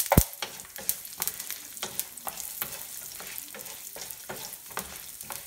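Urad dal fries in hot oil with popping mustard seeds for a raw papaya thoran, a continuous close sizzle broken by crisp crackles and regular scraping stirs of a spoon in the pan.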